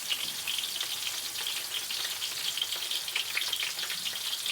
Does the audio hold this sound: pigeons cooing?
no